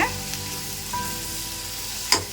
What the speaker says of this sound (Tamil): ஸோ வந்து இந்த மாதிரி ஆட் பண்ணி வதவிட்டு போடுங்க